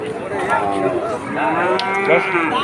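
A cow moos loudly and close by in several drawn-out, rising and falling calls at a busy outdoor cattle market, with the crowd murmuring in the background.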